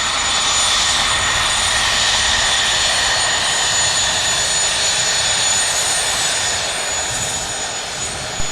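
An aircraft takes off at Spirit of St. Louis Airport with a loud, sustained engine roar and whine that stays steady throughout and fades slightly near the end.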